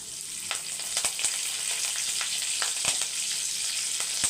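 Fennel seeds and curry leaves fry in hot oil, a close, continuous hiss and sizzle with scattered crackles and pops throughout.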